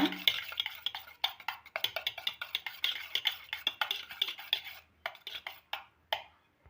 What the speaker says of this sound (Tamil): தயிர் சேர்த்து நம்ம இந்த மாதிரி நல்லா கலந்துக்கலாம்